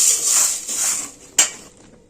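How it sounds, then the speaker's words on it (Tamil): Urad dal dry roasting in a pan gives a short burst of rustling, hissy scraping, then a sharp clink of a utensil against the pan before it fades. "இப்போ நம்ம கொஞ்ச நேரமாக வறுத்துக்கிறோம்."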